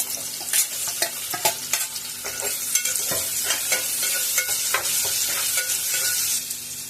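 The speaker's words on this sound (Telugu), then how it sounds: "ఆయిల్ మనకు కాస్త వేడెక్కాక ఒక ఉల్లిపాయని కట్ చేసుకొని వేసుకోవాలి" Chopped onion sizzles in hot oil inside a pressure cooker, a steady crackling fry punctuated by repeated scraping and stirring clicks, close and fairly loud with no voices.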